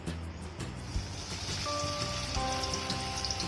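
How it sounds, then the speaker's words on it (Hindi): Ground soybean soya chaap fries in hot oil with a steady, dense, crackling sizzle, close and continuous like rain on a surface, growing slightly fuller as it goes on. "हम इसको फ्राई करने के लिए डाल देंगे"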